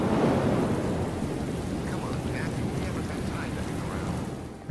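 Steady heavy rain with rolling thunder in the horror video game Call of Cthulhu: Dark Corners of the Earth, a dense continuous roar filling the whole stretch.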